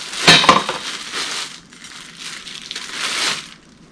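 A Kelly Kettle hobo stove being unpacked: crisp paper crinkling and crumpling near the microphone, with a sharp metallic clink early on, then softer rustling bursts that fade out.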